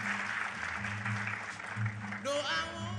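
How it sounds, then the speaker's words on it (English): Applause at an awards presentation, a steady wash of crowd clapping beneath sustained music tones, with a sung melody entering near the end. "A round of applause, ladies and gentlemen."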